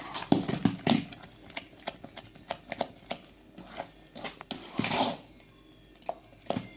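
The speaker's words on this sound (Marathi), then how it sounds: "चांगलं फेटून घेते मी" Idli batter made from ration rice is beaten in a bowl, producing quick, rhythmic slapping and clacking strokes close by, with no talking.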